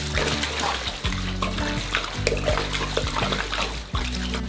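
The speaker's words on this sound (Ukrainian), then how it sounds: "А тепер наливаємо воду." Water pours steadily into a cooking pot holding oxtails, a continuous splashing rush, fairly close, over a low musical hum in the background.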